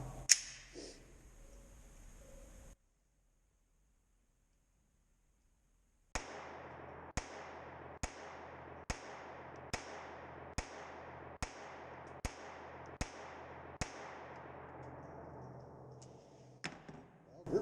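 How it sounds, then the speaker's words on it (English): A Ruger LCP II .22LR pistol fires Federal Auto Match rounds at about six yards: ten sharp, evenly spaced cracks in quick succession, close and loud, after a brief silence, with a little handling noise at the start and end. "we're going to do 2 mags with the Federal Auto Match and see how that does"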